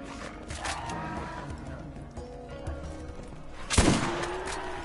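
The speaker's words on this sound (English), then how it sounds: "I'm gonna use this shotgun. See how much damage it actually does." Shotgun fire aimed at skags in the video game Borderlands: a single loud, sharp blast near the end, standing out over steady game ambience and faint background sound.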